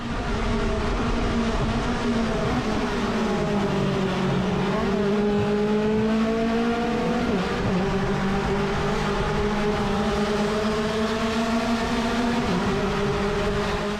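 Mazda race cars running nose to tail on a tight street course, their engines a loud, continuous overlapping whine that rises and falls in pitch as they pass and shift, with no talk.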